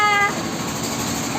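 Brief rumble and rattle inside a moving, heavily crowded train, with a short high tonal whine at the very start.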